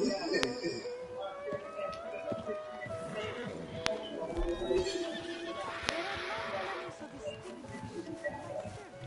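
A horse neighing in the video game Red Dead Redemption on PS5, loud whinnies with hoof clip-clop and game ambience, while people talk over it.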